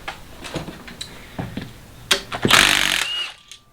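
An impact wrench removes nuts from a Chevy 250 six-cylinder engine using a non-impact socket, sounding as a few short buzzing bursts followed by one longer, louder whirring run, close up.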